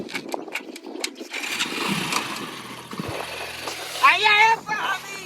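A motorbike engine cranks and catches, rising into a rough running drone, close by, while people talk loudly over it and a voice rises near the end.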